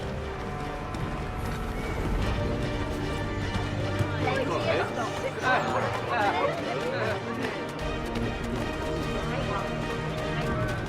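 Horses neigh repeatedly over a steady clatter of hooves in a video game, Assassin's Creed 3 Remastered, with a crowd murmuring and voices talking in the background.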